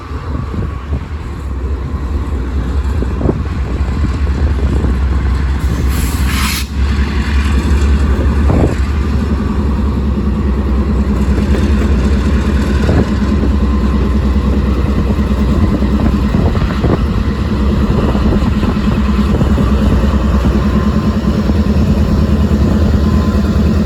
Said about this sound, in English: a Norfolk Southern manifest train, which was Norfolk Southern 10K, departs Conway Yard